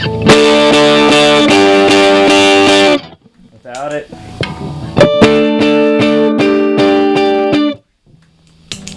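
An electric guitar through a Paul Cochrane Tim overdrive pedal strums sustained chords, pausing briefly for a few picked notes before the crunchy chords return and ring out.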